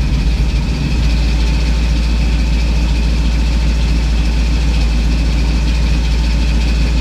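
A 1978 Ford Bronco engine, running poorly, idles with a loud, steady rumble, low and even throughout with no breaks, as Seafoam is drawn in through a vacuum line.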